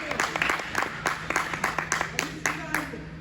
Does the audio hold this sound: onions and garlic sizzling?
no